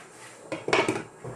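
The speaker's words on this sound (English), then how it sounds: "I'm going to pop the lid back on that and I'm going to cook that" A metal lid set back onto a cooking pot of black-eyed pea and vegetable curry over medium-high heat, giving a short clattering clink of metal on metal with a couple of quick knocks, close and fairly quiet.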